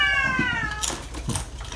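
A cat meows loudly up close, a drawn-out cry followed by shorter calls, with some clattering and background noise.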